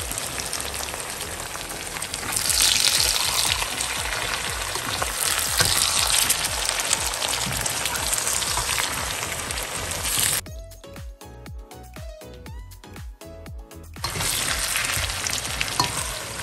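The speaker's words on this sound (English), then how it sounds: "Now we need to just fry the meat until it's a bit golden brown." Boiled lamb pieces fry in a pan with a loud, dense sizzle that runs continuously, briefly dropping into quieter crackles and pops before the full hiss returns.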